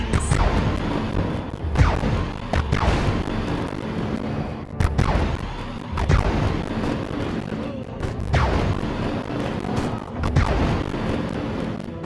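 Sustained gunfire and explosive booms in the Destroy All Humans! video game, heavy dense blasts and crashes layered over a constant rumbling battle din, loud and continuous with voices mixed in.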